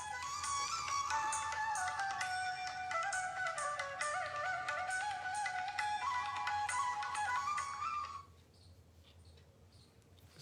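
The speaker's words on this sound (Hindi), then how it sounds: "देखना किसका फोन है।" A mobile phone ringtone plays a bright repeating melody steadily for about eight seconds before cutting off, leaving quiet room tone.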